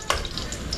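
Garlic drops into a hot pan with a short sharp hiss that settles into a faint, even sizzle, brief and close.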